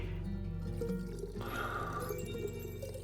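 Coffee pours steadily in the tavern game Tavern Talk, a soft continuous liquid trickle laid over a sustained musical backdrop, with no voices.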